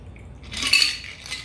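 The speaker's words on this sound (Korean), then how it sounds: "캡의 뚜껑을 열고 스트레이너 쪽에 손가락을 걸고 따라주시고요" Margarita strained from a shaker into a glass, a brief bright splashing trickle with a light metallic rattle of the strainer, close and alone.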